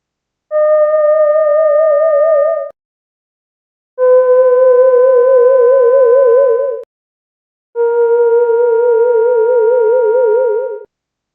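Sonified ultrasound data from rock samples after 10 and 20 salt crystallization cycles plays as three sustained pure synthetic tones, each a few seconds long with a slight warble, separated by short silences.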